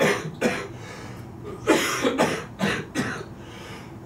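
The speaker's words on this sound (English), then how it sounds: "I needed to have a terrible coughing fit" A person coughs repeatedly in harsh, uneven bursts, several hacking coughs close together with short gaps, loud and near.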